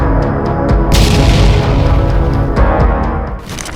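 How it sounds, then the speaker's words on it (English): A powerful explosion from an FPV drone strike on a damaged vehicle on a battlefield, a loud sudden blast followed by a long roaring rumble that slowly fades. "the drone follows and eliminates him with a powerful explosion"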